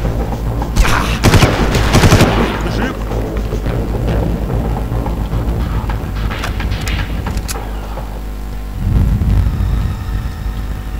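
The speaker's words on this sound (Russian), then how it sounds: "Откуда стрельба? Непонятно." Bursts of rapid gunfire in the video game Far Cry crackle loudly over a constant engine rumble, with sporadic shots and booms scattered through the noisy scene.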